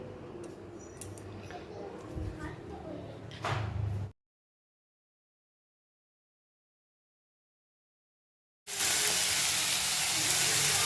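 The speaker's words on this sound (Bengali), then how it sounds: "অবশেষে চিকেনটা আমি চাপাতে চলে গেছি। তেলে মোটামুটি তেজপাতা, একটা গোটা লঙ্কা দেখতে পাচ্ছ, আর কিছু গোটা গরম মশলা" Chicken pieces hitting hot oil with bay leaf, a whole chili and whole garam masala spices, a close sizzle and crackle for four seconds, then silence, then a loud steady frying hiss returning.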